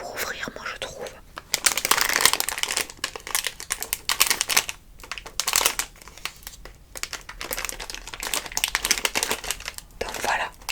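Candy shop wrappers on small packs of fruit sweets crinkle and crackle in close, irregular bursts, with soft whispered speech mixed throughout.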